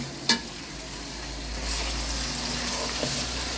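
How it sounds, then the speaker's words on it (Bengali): Ginger paste fries and is stirred in a pan over lowered heat, a close, continuous sizzle with a clack at the start and soft scraping of the spoon throughout, no speech. "আদা বাটা দিয়ে এখন আমরা নেড়ে নেব"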